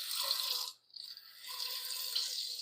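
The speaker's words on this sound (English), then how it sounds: "Let's get some water going. I'll fill this up while I chop up the rest." Tap water runs into a cooking pot in a home kitchen, a steady hissing splash that cuts out briefly and then resumes, close and moderately quiet with no talking.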